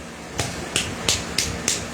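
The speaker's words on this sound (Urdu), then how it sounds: "یہ جو ہے نا یہ مردانہ تالی، اس کو کہتے ہیں تصفیق کرنا" Hand clapping in the men's style (tasfiq), five sharp separate claps at a steady rhythm, close and clear, with no talk over them.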